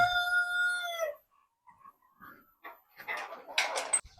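A Brahma rooster on a forest farm crows once in a loud drawn-out call, followed by scattered clucks and rustling from other chickens nearby.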